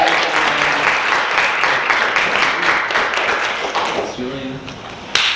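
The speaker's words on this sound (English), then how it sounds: "Please, lots of clapping while I give these gifts to our" Audience applause at an education innovation event as gifts are handed out, a steady wash of many hands clapping that thins toward the end, with a voice speaking briefly under it.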